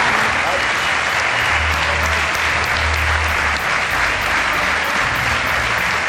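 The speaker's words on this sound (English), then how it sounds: "let's have a massive round of applause for Jorge Lorenzo" A crowd gives a sustained, dense round of applause for motorcycle racer Jorge Lorenzo at a MotoGP eSport event, a steady loud wash of clapping that holds evenly throughout.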